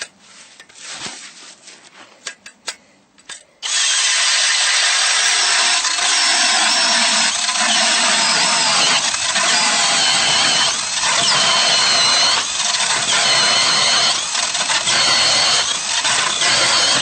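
A Milwaukee M18 Fuel cordless drill driving a StrikeMaster Mora 6-inch ice auger through ice at a beaver house, a few short bumps and handling noises before the motor kicks in to a loud, sustained, close whine with grinding texture for the rest.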